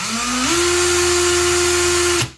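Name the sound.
cordless drill spinning at high speed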